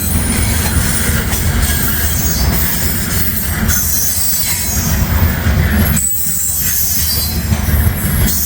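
A heavy grain train rolls past close by, a steady loud rumble of railcars with squealing wheels and faint clatter throughout.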